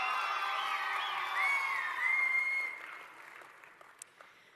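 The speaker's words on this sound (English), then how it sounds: "So a big round of applause to all of our medalists and certificate excellence winners" Applause and cheering from a crowd at a skills competition closing ceremony for medalists, with a whistle rising over the clapping before it fades to scattered claps.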